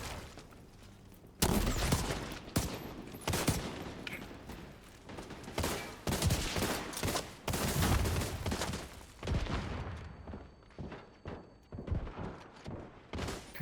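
M700 rifle gunfire in a video game: loud, close shots and bursts amid sustained combat noise, with some quieter stretches between reports toward the end.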